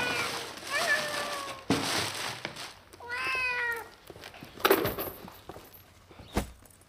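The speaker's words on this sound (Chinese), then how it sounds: "从此以后你就是一个有家的小喵喵啦" A young kitten just brought home meows a few times at a moderate level, with soft rustling, clinks and handling noises between the calls.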